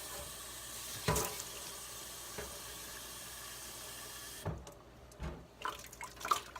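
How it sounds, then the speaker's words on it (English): Water runs and splashes while winemaking bottles are rinsed at a sink, a faint steady trickle broken by a few sharper sloshes and knocks of glass, quiet and close with no voices. "So I'll just go ahead and wash them,"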